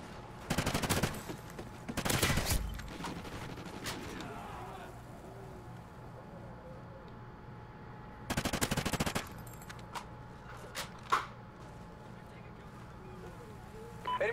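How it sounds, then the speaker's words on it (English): Gunfire from Call of Duty on PS4, on the Whiteout map, shoots at a window. Loud automatic bursts come early and again in the middle, with quieter game ambience and scattered clicks between them. "I want to shoot the window for whatever reason."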